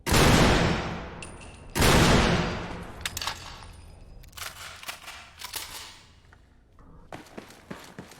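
.50 caliber gunfire in Fallout 4 survival mode: two loud, booming shots with long decaying tails, then a string of sharper, quieter cracks and clicks, ending in a quick cluster of snappy reports.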